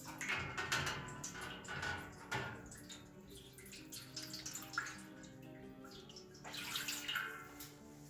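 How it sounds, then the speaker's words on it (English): Hot water poured into a roasting tray of marinated mustard chicken drumsticks, a steady splashing, gurgling stream that runs continuously and close by, swelling and easing slightly throughout. "This is the hot water."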